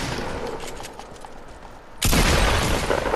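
Video game gunfire crackles faintly at first, then a loud burst of rapid shots erupts abruptly partway through and continues to the end.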